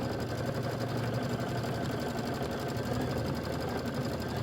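A computerized embroidery machine stitches out the pink appliqué trunk on a Christmas quilt block, running steady and close with a continuous rapid mechanical hum and needle clatter throughout, with no talking.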